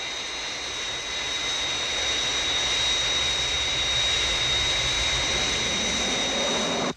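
Steady, loud jet airliner roar from the Fireflash, a Thunderbirds aircraft on final approach, with a sustained high whine holding evenly for about seven seconds before cutting off abruptly.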